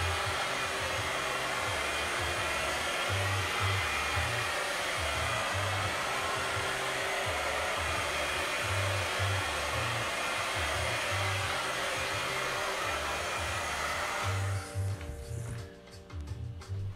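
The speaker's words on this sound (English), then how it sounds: "Generally, I don't recommend using a hairdryer," A hair dryer blows steadily and loudly over acrylic paint with a constant whooshing roar and a faint rhythmic mechanical ticking underneath, cutting off near the end.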